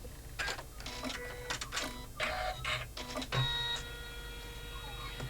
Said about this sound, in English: we stitch that outline down